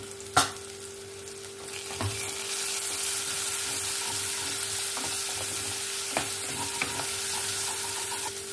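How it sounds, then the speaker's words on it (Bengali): Masala with cumin powder is sautéed in a pan for egg curry, making a steady bright sizzle broken by occasional spoon taps and scrapes. Nobody speaks. "মশলাটাকে ভালো করে কষিয়ে নেব"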